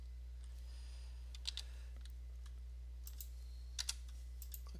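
Several sharp computer mouse clicks in quiet surroundings during drafting software work, single and doubled taps spaced apart over a low steady hum.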